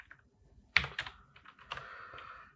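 Keystrokes on a computer keyboard while C code is typed, a few quick sharp taps in an irregular burst, close and fairly quiet, with no talking.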